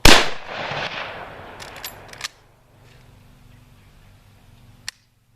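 A Marlin 336 lever-action rifle fires a loud, sharp close shot that rings and decays, with a few metallic clicks from the action, then quiet and a single shorter report near the end.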